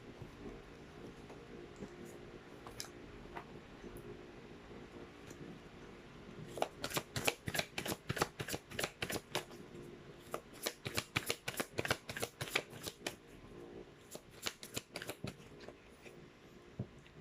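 A deck of tarot cards is shuffled close up, with rapid, crisp riffling flutters coming in two dense runs separated by a short pause, over soft background noise.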